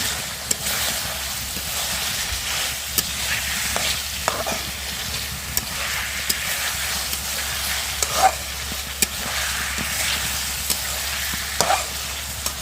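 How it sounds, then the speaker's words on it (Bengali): Potato pieces frying and being stirred in leftover fish curry gravy in a pan, a steady sizzle broken by regular scraping and clacking stir strokes, close up with no talking. "আলুটা একটু কষাই নেব, মানে একটু যেন ভাজা ভাজা হয়"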